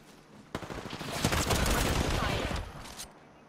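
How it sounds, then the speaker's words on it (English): Sustained automatic gunfire in the video game Apex Legends, opening with a sharp shot and then a dense, loud burst of rapid rounds lasting about two and a half seconds before cutting off abruptly. "I'm taking fire"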